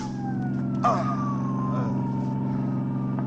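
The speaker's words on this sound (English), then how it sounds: "Folsey, tell the driver to stop this ambulance" An ambulance siren wails in long falling tones over a steady engine drone, close and moderately loud, in an old radio drama.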